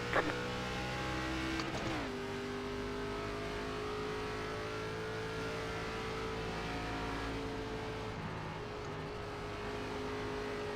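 iRacing race car at Twin Ring Motegi accelerating after the green flag, a loud close engine revving up with rising pitch and gear shifts, then holding a sustained high drone, no talk.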